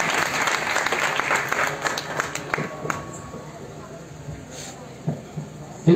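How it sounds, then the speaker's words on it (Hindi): An audience claps in welcome at an outdoor Ramlila committee event, a dense mid-distance patter that thins toward the end with a few scattered claps and faint background noise. "ताली बजा के स्वागत कर रहे हैं"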